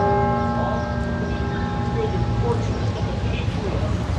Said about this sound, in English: that was the bell at Independence Hall that you just heard